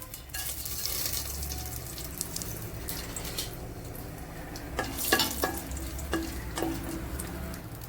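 Cardamom, cloves, cinnamon and fennel fry in ghee with a soft, continuous crackling sizzle, broken by a few sharp pops and light utensil clinks near the end.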